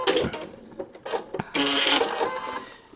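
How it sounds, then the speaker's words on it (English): A sewing machine stitches a paper-pieced quilt block in short mechanical bursts with pauses between them, followed by a longer steady run of stitching, close and fairly loud. "And keep on stitching. Lock those stitches in."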